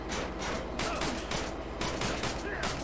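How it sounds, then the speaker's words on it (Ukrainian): Gunfire in the video game Manhunt: a run of sharp, rapid shots in uneven bursts over continuous game background noise. "Вони вже стріляють по мені, бачите?"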